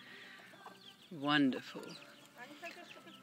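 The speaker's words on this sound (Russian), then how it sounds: "Look at those hens and roosters." Hens and roosters of unusual breeds clucking and squawking in a farmyard pen, with a loud burst of fowl calls in the middle and a voice speaking briefly over the birds.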